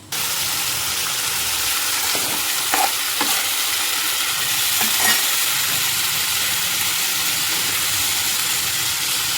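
Loud, continuous sizzling of chopped ingredients for a dried fish curry hitting a hot pan, with a few clattering stirs near the start and a steady hiss throughout.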